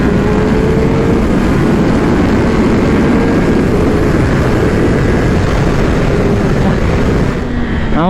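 A 2021 Kawasaki ZX-10R motorcycle accelerating down a track straight, a loud, dense engine roar held steadily with rising tonal sweeps as it pulls through the revs, fading slightly at the end.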